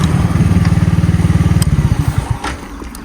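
A motorcycle engine during break-in idles with a rapid, steady putter up close, then cuts off, leaving a few faint clicks and quiet background.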